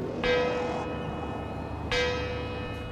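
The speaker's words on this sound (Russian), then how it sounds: "колокол звонит" A church bell in the Hitman video game tolls twice, loud and close, with a bright ringing onset that decays over about a second and a half before the second strike.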